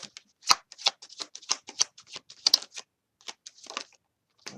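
A tarot deck is shuffled by hand in a quick run of crisp, papery card flicks and riffles. The bursts are irregular and close, with brief pauses between them and no voices.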